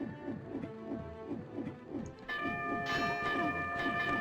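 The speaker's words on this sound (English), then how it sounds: "letting the enemy hit the bell" A bell in the video game MediEvil is struck by an enemy and rings out with a bright, sustained metallic tone that lingers. Before the strike comes a run of rhythmic low thumps.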